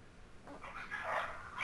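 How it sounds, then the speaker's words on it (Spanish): Dogs fighting outside, with excited barks and whimpering yips rising toward the end, somewhat distant and moderately loud. "se agarraron unos perros aquí afuera"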